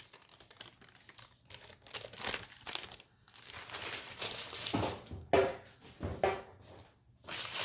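A sheet being peeled off the side of a sprinkle-coated cake, giving close, quiet crinkling and crackling with small uneven bursts over several seconds, no voices.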